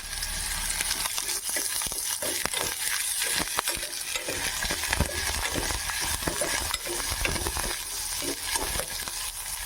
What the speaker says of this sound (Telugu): ఉల్లిపాయలు తీసుకున్నాం కదా అది సాన ఇందులో వేసి వేయించుకుంటాము